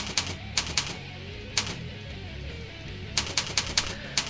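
Computer keyboard typing a username and password, a few scattered key clicks followed by a quicker run of taps, faint against a low background hum.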